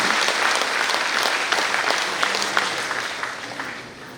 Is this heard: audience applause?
yes